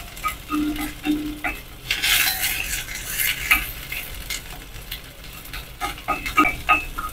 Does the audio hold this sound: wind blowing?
no